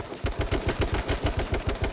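Rapid automatic gunfire in a video game, a tight string of evenly spaced loud shots fired in quick succession, close and punchy.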